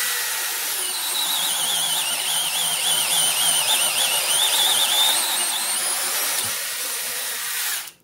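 A cordless DeWalt drill bores through wood with a 3/4-inch spade bit, giving a loud, steady high-pitched motor whine that holds for about seven seconds before spinning down abruptly at the end.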